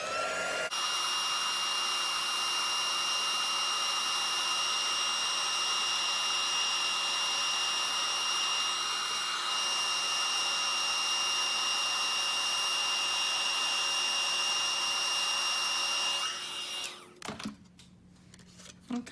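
A papercraft heat embossing tool blows hot air in a steady, loud whirring drone that runs unbroken for most of the time, then switches off, leaving faint handling noise.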